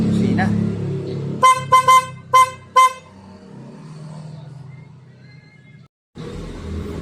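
A newly installed PIAA car horn honks in four sharp, loud blasts in quick succession, tonal and bright, over a low engine idle and some background noise.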